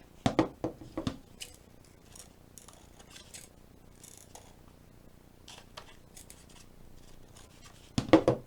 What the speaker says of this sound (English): all I'm going to do is cut some strips around here so I can wrap this over the back